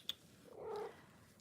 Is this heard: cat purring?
yes